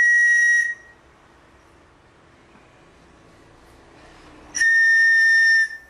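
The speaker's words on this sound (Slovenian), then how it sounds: "Če pihamo v eno piščal, dobimo en ton." A reed pan flute (trstenke) pipe sounds two clear, steady breathy tones, one short blow at the start and another after a quiet gap, each pure whistle-like pitch close and loud.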